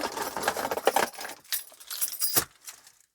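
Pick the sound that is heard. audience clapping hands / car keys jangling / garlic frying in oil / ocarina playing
car keys jangling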